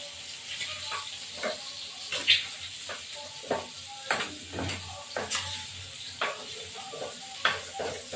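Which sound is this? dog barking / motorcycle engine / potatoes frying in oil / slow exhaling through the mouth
potatoes frying in oil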